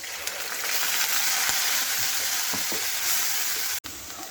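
Onion and ginger paste frying in hot oil with cinnamon, cardamom and cloves, giving a loud, steady, close sizzle with a faint stirring scrape and a brief cut near the end.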